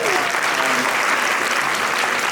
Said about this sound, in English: Give our panelists another round of applause.